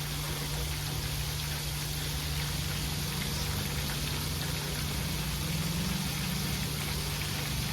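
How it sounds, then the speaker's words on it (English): Steady, dense crackling sizzle of chicken wings frying in hot oil, continuous and fairly close, with no talking. "you can hear the sizzle different now since we took them out"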